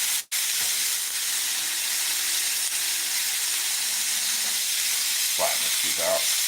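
Loud, steady sizzling and hissing of onions frying on a hot fajita sizzle platter, with a few brief voice fragments near the end.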